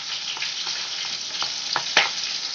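Onion and garlic fry in a generous amount of oil, a continuous bright sizzle with a few short stirring scrapes and pops, close and alone.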